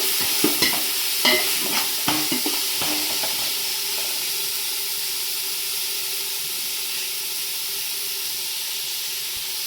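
Mint, coriander and curry leaves being stirred and sautéed in a pan for Nonbu Kanji give a steady close sizzle and hiss, with a few sharp spatula scrapes and clinks early on, then continuous frying alone.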